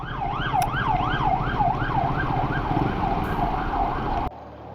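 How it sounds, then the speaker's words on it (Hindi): An ambulance siren wails in a steady rising-and-falling pattern as it passes along a Polish highway between Krakow and Warsaw, over the rumble of traffic, then cuts off abruptly. "पता नहीं कितनी एम्बुलेंस निकल रही है"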